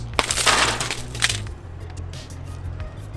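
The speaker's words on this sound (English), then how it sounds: "see if it'll bust it, and give you an example of this glass buster" Glass cracked and shattered with a Wuben TP10 rechargeable glass breaker pen: a sharp crunching break up front with tinkling fragments, then quieter settling crackles, close and loud with no talk.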